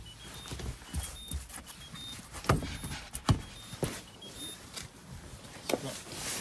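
The two keys for a Citroen Xsara Picasso 1.6 HDi jangle together close by in quiet surroundings: light metallic clinks and rattles in scattered bursts, with a few sharper knocks between them.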